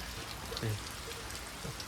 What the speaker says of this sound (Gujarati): એક તારો સતત વરસાદ ચાલુ છે